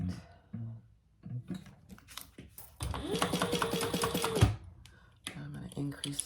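A sewing machine runs in a steady burst of stitching on a hip bag, loud and close for about two seconds, framed by quieter handling noises and clicks, with a person speaking briefly nearby.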